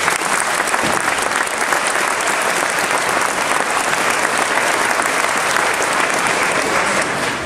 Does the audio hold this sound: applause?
yes